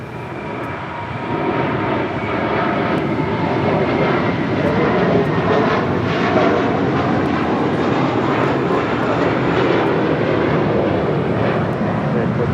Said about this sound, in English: Next departure here on the south side is JetBlue Airways Flight 324, heading to JFK in an A321.